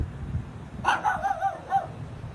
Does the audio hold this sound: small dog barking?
yes